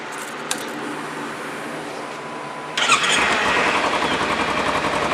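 A Kawasaki Ninja 300 motorcycle with a quieter modified exhaust starts up: a steady background hiss, then an abrupt catch at about three seconds into a loud, close, busy engine running.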